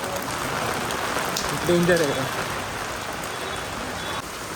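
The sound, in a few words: heavy rain falling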